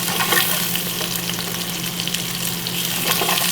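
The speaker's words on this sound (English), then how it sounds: "You want to brown the chicken." Chicken browns in a hot pan for Filipino adobo, a steady close sizzle and crackle of frying with faint stirring, no voices.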